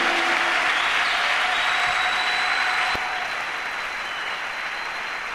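A church congregation applauding in praise of Jesus during a healing and miracle service: dense, sustained clapping from a crowd that eases slightly softer partway through, with no distinct cheering voices.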